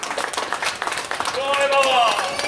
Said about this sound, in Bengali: সবার জন্য আরেকবার জোরে হাততালি।